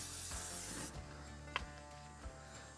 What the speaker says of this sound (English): I'm gonna give my grates a quick spray.